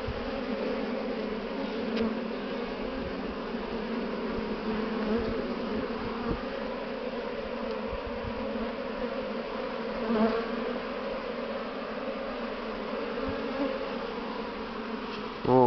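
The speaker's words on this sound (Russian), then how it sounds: "Вот и такие пчелки у нас." Dense, steady buzzing of many honeybees swarming close by, a continuous drone that holds level throughout.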